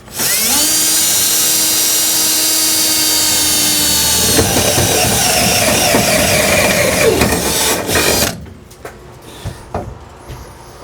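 Power drill boring a hole through metal in a workshop, a loud high whine for several seconds that bogs into grinding as the bit cuts, then stops abruptly, leaving a few faint knocks.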